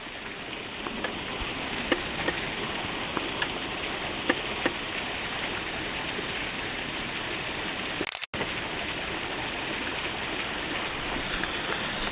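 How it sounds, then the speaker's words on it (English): A small waterfall behind a plant in Toccoa, Georgia, rushing steadily with a constant, moderately quiet wash of water noise, broken only by a brief dropout partway through. "But here's the small waterfall behind the plant."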